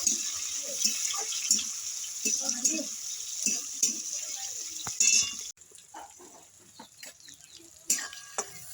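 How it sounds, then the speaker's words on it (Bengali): Chopped onion and tomato fry in a pan for spinach kofta curry with a continuous close sizzle, broken by spoon-stirring clacks and scrapes against the pan. A brief pause in the middle, with soft background voices. "টমেটো কুচি পেঁয়াজ টমেটোটা ভালো করে ভেজে নেবো"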